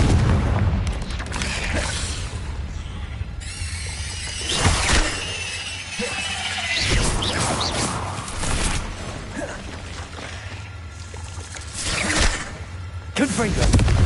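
Fiery Confringo spell blasts from the Hogwarts Legacy video game, several loud booming bursts with crackling, whooshing tails spread through a dense stretch of game noise and a voice.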